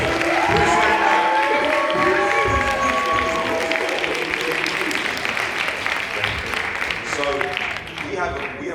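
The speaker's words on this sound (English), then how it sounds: "Give him a London round of applause." An audience at an event for a British Christmas romantic comedy film applauds and cheers loudly, dense clapping mixed with whoops and crowd voices, and some speech-like chatter rising through the din.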